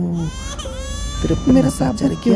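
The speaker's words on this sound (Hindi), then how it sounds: "वो बच्चा रो रहा है। देख देख रो रहा है।" A baby cries in an animal video game with cows, elephants, gorillas, hippos and tigers on a long slide, short wailing bursts that come and go under music and overlapping talk.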